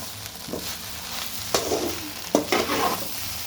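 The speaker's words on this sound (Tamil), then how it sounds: "அப்படி கிண்டுங்க" Kothu parotta with egg and onion being stirred in a hot pan, a steady sizzle broken by two sharp scraping clatters of the spatula about a second apart.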